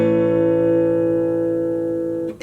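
A sustained major chord rings out as the final resolution of a melody, a minor-key line ending on a raised Picardy third, held steady and bright for about two seconds before cutting off abruptly.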